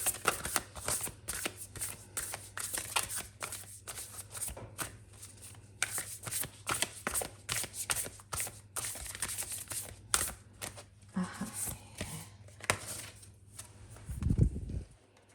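Tarot cards being shuffled up close in a fast run of crisp riffling flicks and taps over a faint steady hum, ending in a soft low thump, with no talking.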